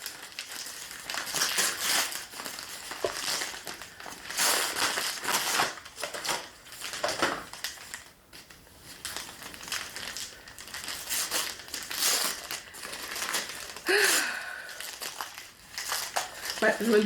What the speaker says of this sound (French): c'est du papier d'emballage